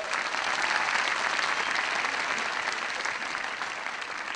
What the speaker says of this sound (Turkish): Samuray'a bir alkış.